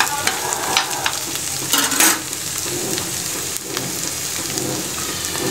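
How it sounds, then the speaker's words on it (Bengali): Onions frying in mustard oil in a pan, a loud dense sizzle with crackling spatter and occasional stirring scrapes, continuous throughout with no talk. "এখন দিব পেঁয়াজটা লাল লাল করে ভেজে নিব।"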